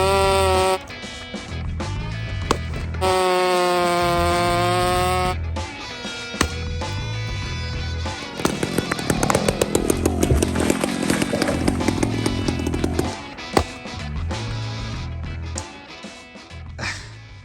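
Husqvarna 372 chainsaw fitted with a UFO muffler, running loud and close with a steady buzzing drone that surges and revs through the middle, then drops back toward idle.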